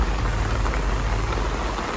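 Rain falling on a surface during a typhoon, a dense, steady patter and hiss that stays loud and even throughout, with no talking.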